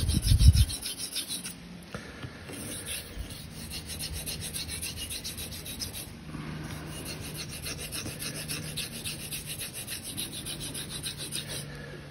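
A straight razor is honed on a natural Belgian Blue whetstone, making a steady close rhythmic scraping rasp of strokes that continues evenly, with a brief knock at the start.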